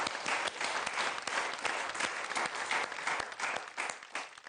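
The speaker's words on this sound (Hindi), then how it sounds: "तो एक बार जोरदार तालियां हमारे इन तीनों साथियों के लिए।" A studio audience claps loudly and steadily for three guests on a Hindi television show, a dense, even burst of applause with no voices over it.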